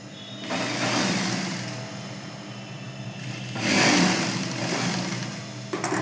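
A sewing machine runs in bursts while joining the front and back shoulder seams of a half petticoat, its steady motor whir rising and easing with a louder stretch near the end, close and with no voices.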